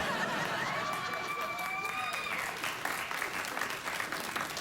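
A late-night talk show studio audience claps and cheers in a steady wash of applause with a few whoops rising early, sustained evenly and then easing slightly.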